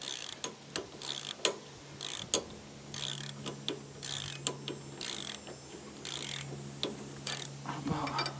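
A ratchet wrench turns quickly on a Craftsman lawn tractor during steering bearing and tie rod work, its fast clicking bursts repeating in a sped-up rhythm over a steady low hum, fairly faint.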